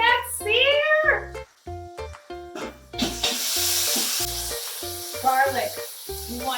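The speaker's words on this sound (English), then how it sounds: "Rotate the roast so you can sear the opposite side." A pot roast sears in a hot pan with a steady sizzle. Someone talks over it for much of the time, with the frying hiss briefly coming through more clearly between her words.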